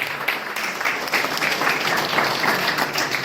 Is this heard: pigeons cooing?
no